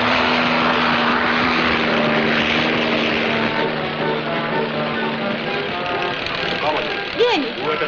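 A slow propeller airplane flying overhead gives a steady, loud droning hum that rises and falls a little, with voices talking faintly underneath.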